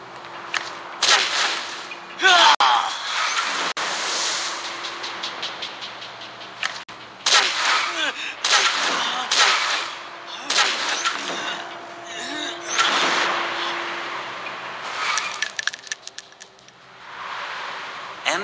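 Gunfire in the video game Dragon Raja, several sharp shots scattered across the span along with whip-like cracks and impacts, mixed with game effects and a faint voice at times.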